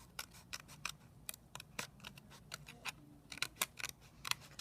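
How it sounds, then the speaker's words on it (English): Scissors snipping through card stock during card making, a quick irregular series of crisp close cuts against faint background hum. "Now I'm going to take some scissors"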